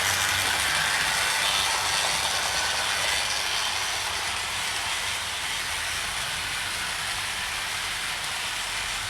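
Continuous mechanical clattering and rattling of a Hornby Coronation Scot model locomotive running steadily on track, close and fairly loud, with no voices.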